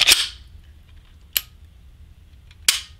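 Three crisp, sharp clicks from a pistol's trigger breaking and resetting, evenly spaced more than a second apart, close and distinct over quiet background hum.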